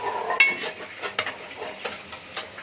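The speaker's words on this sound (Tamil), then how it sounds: "எண்ணெய் நம்மளாம் ஊற்றி தாளிக்கிறேன்." Oil sizzles softly in a pan while spices are tempered, a faint bright hiss broken by several sharp ticks and spatters, quiet and close, with no talking.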